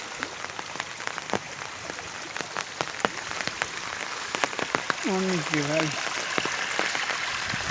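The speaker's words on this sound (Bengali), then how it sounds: "বৃষ্টি আসতেছে বৃষ্টি পানি আসতেছে" Rain falls on flooded fields near a bridge, a faint steady patter with scattered drop ticks, while someone speaks briefly in the middle.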